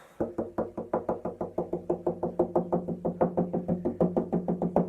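Steady, rapid knocking taps along the seam of a string instrument's hollow wooden body, around five per second, close and evenly paced with a resonant thump to each strike.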